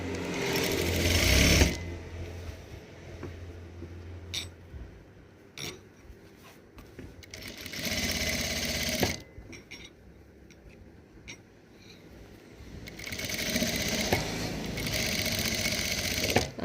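A sewing machine stitches folded fabric along a neckline seam, running in three loud close bursts with quieter pauses and handling clicks between them.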